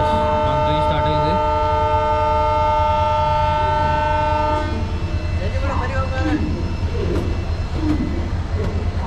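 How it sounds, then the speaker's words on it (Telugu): The 12780 Vasco Express from Hazrat Nizamuddin sounds a long, loud, steady horn while the train begins to move. Steady rumble and clatter of the carriages continue beneath it and then on their own once the horn ends. "హార్న్ కొట్టాడు, కొంచెం కదిలించాడు, ఆపేశాడు. ఇంకా ట్రైన్ స్టార్ట్ అవ్వాలి. ఎస్, మన ట్రైన్ స్టార్ట్ అయింది"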